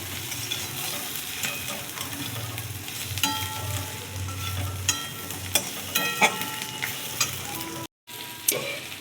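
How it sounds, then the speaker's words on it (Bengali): Dried fish frying in oil in a pan for a winter vegetable curry, with a steady close sizzle and frequent stirring clicks and scrapes; the sizzle cuts out for a moment near the end. "তাই ভালো করে তেলের সঙ্গে একে ভাজবো খুব ভালো করে ভেজে নিচ্ছি"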